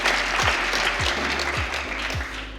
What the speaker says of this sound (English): You can clap for them here.